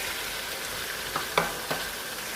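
Smashed jengkol tossed into a pan with bruised galangal, a steady close sizzle broken by a few sharp clacks and scrapes of stirring, no voices.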